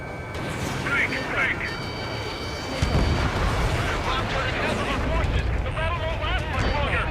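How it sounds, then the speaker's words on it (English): Ace Combat 7 aerial combat on hard difficulty: a continuous roar of missile fire and explosions with a deep boom near the midpoint, loud and dense, under radio chatter voices. "Strider 1, missile launched. Target destroyed."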